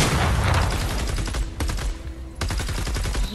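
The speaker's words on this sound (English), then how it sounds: "He literally took his gun and he shot his gun like this." Rapid, loud automatic gunfire from a Fortnite match, dense continuous bursts with two brief pauses, close and dominant with no talking.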